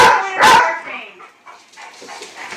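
A dog gives a sharp, loud, close bark near the start, followed by quieter yips and whimpering sounds over the next two seconds.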